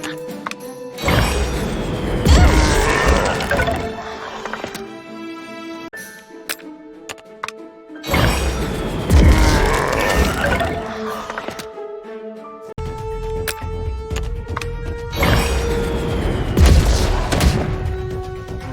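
Voodoo Bomb ability effect from the video game Legends of Kingdom Rush: loud bursts of booming impact and crackling effects repeat in three surges, separated by quieter stretches of tonal game music, with no talking.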